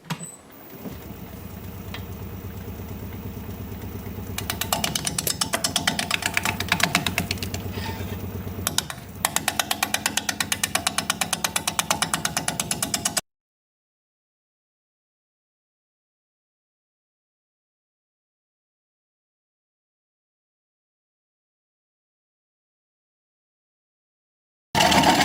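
Wood lathe spinning a plum bowl blank with a 5/8 inch bowl gouge, a loud, steady buzzing and rattling cut for about thirteen seconds, then abrupt silence.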